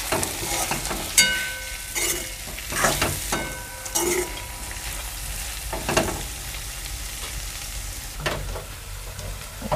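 Eggplant bharit stir-fried in a pan with crushed peanuts, a steady sizzle broken by repeated scraping strokes of a spatula, close and fairly loud, with no talk.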